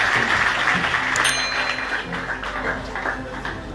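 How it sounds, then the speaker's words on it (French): A gathered audience applauds in a moderately loud, dense patter that holds steady and tapers slightly toward the end, with some background murmur and a brief ping. "On va applaudir ça."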